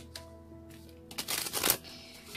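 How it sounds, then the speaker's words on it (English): A deck of tarot cards gets one quick shuffle, a brief, close riffling burst over a faint steady tonal background. "One more shuffle, they say."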